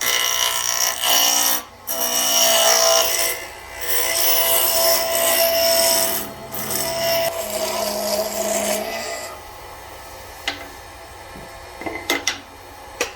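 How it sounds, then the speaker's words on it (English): A 3/4 inch roughing gouge cuts a resin pen blank spinning on a lathe, giving a loud, continuous broadband scraping hiss with brief drops as the tool lifts off, fading to a lighter, intermittent cut near the end. "3/4 inch roughing gouge. Come up till it rubs the bevel, bring up the tool till it starts to cut."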